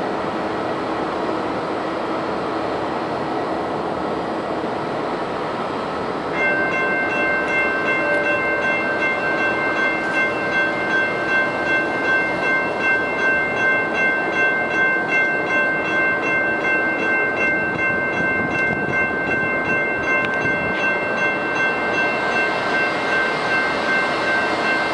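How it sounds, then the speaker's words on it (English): Lynx light rail vehicle 102 pulls out of the 3rd Street/Convention Center station southbound, with a steady rolling rumble, a sustained high electric motor whine rising partway through, and faint rhythmic wheel clatter. "Light Rail Vehicle 102 will be leading this train southbound to Interstate 485."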